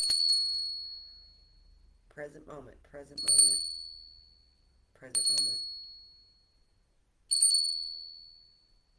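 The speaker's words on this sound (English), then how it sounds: "Ringing a bell." A small bell rings out clearly four times, each strike ringing and fading, with a soft voice speaking between the rings.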